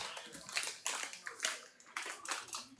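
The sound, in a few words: rinsing dessert rice under water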